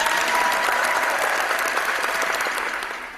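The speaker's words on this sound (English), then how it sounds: "all I've got is a round of applause" A round of applause from a crowd rings out as steady, dense clapping at full strength, then tails off slightly at the end.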